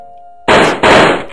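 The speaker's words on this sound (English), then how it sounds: "Let's shoot Spider-Man. Shoot everybody." Gunfire in the video game Don't Die: two loud, harsh blasts in quick succession, each ringing briefly, breaking in after a near-silent low hum.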